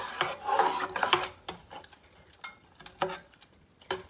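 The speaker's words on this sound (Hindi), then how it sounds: "थोड़ी थोड़ी देर बाद हमें चमचा चलाते रहना है ताकि ये सवैयाँ जो हैं वो नीचे ना लगे" A spoon scraping and stirring sheer khurma, sweet vermicelli cooking in milk in a pot, giving irregular rasping strokes and soft bubbling close by, with no talk.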